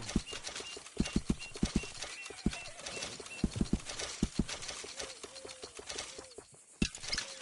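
Horse hooves clip-clop in a steady rhythm in the Red Dead video game, close and crisp, with a brief whinny and faint bird sounds in the background.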